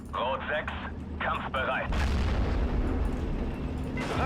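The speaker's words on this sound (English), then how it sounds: "We've got a really good concentrated fire going on here." Artillery and gunfire from the Steel Division 2 World War II strategy game: a continuous low rumble of bombardment that swells into heavy, steady booming midway, with someone talking over the opening seconds.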